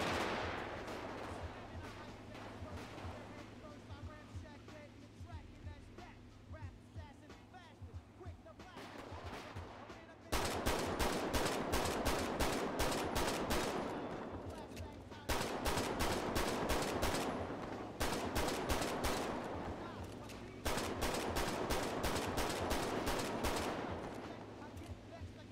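Rapid automatic gunfire from a GTA roleplay shootout, long rattling bursts that start after a quieter stretch of background game noise and repeat in several loud volleys, with voices faintly under the shots.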